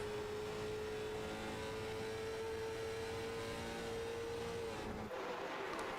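A race car on a qualifying lap at Iowa Speedway: a faint, continuous engine drone holds one steady pitch, then fades slightly near the end. No one speaks.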